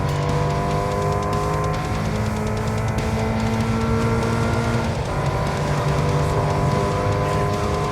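A Subaru BRZ racing car in a racing video game, its engine holding a steady high whine as it drives at speed, with tones that shift slightly partway through, loud and continuous, with no voices.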